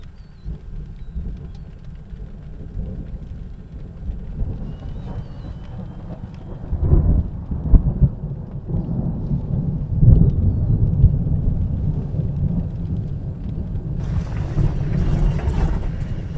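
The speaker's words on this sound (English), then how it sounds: "being in the middle of all the thunder and lightning out there in the African bush" Thunder rumbles through a thunderstorm in the African bush, low and heavy, rising into louder rolling swells partway through over a steady windy wash, with a hiss of rain or wind strengthening toward the end.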